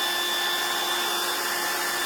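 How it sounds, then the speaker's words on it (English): A hair dryer blows steadily at close range over a small craft project, drying the colors on a tiny paper envelope with a continuous broadband whoosh and no talking. "This isn't my favorite dryer"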